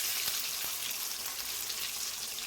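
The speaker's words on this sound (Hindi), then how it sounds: "एक बार और ही ना दोबारा फ्राई से कर लूँगी जिससे कि गर्म हो जाए।" Pakoras being fried a second time in hot oil, restaurant style, give a steady, even sizzle and crackle that holds at the same level throughout, close by, with no talking.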